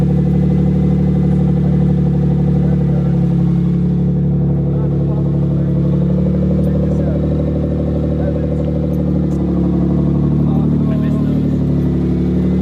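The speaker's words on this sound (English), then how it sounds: "Cold start's a little weak, but you know, what can you say?" Engine of a project car with pop-up headlights idling after a weak cold start, a loud, steady low droning rumble close by that holds level for the whole stretch.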